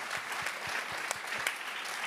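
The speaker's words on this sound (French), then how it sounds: "Oui, on peut l'applaudir effectivement" A modest audience claps at a brisk, fairly even pace, individual hand claps distinct and moderately close, sustained throughout at a soft overall level with no talking.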